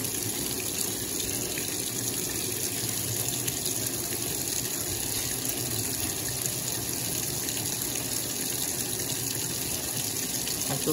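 Water gushes steadily into a 1992 Brastemp Baby 4 kg washing machine filling for its rinse cycle, a constant, close rushing hiss with no pauses.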